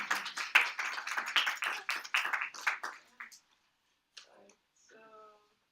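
At a school cooperative conference where high school students present, the audience claps briskly for about three seconds, then the claps thin out into near silence broken by a few faint, scattered sounds.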